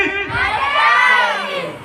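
A crowd at a dance group show in Dalli Rajhara shouts and cheers loudly and steadily, with children's high-pitched yelling and whoops blending into a dense, sustained roar.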